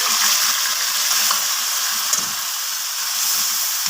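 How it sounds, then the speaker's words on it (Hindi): Steady, loud sizzling of ginger and garlic frying on a high flame for mutton qeema, a continuous crackling hiss with occasional pops, no voices. "हाई फ्लेम पे ही मैं इसे फ्राई कर रही हूँ"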